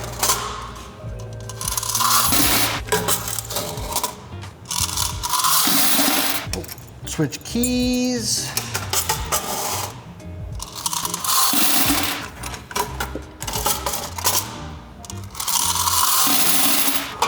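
Loose coins pour out as coin machines are emptied, a loud, continuous metallic jangle and clatter that surges in repeated waves with brief lulls. A person speaks briefly.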